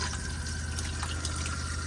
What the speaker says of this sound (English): to get a flow of water into the bowl.